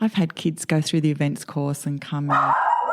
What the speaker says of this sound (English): Excuse my dogs in case you can hear them bark.